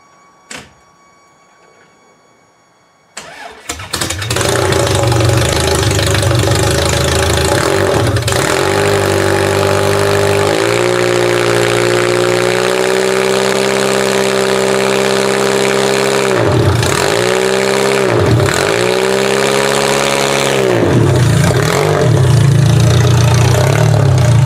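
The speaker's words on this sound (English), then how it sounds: "Let's get this thing fired up again." A Toyota Camry engine after a motor swap cranks briefly, catches and settles into a loud, steady idle with a few quick revs and dips along the way, close and running alone with no talk.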